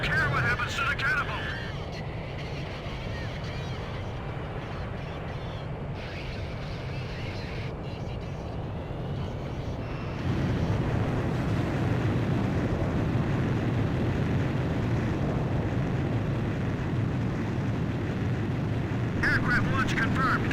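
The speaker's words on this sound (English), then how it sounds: "Aircraft launch confirmed. Catapult crew will now evacuate the ship." A jet aircraft launches from a carrier catapult in the Ace Combat 5 video game, a sustained roaring rumble that swells into a louder, steady engine roar partway through, with a voice speaking over it.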